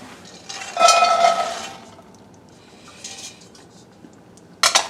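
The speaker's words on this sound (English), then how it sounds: "now I'm going to add them to our stock pot" Rinsed white beans tumble into a stock pot with a clattering, splashing rush, followed by quieter shuffling and a final short metallic clink.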